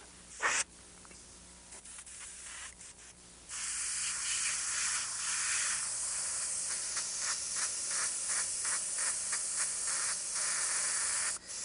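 White paint is sprayed onto a T-shirt in short hissing bursts at first, then a long continuous airy spray that pulses slightly and stays close and prominent until it cuts off.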